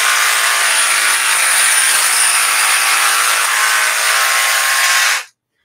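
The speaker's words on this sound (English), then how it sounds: "love this jigsaw." A Flex jigsaw runs steadily at full speed, a loud, dense buzzing whine held for about five seconds before stopping abruptly, with no talk over it.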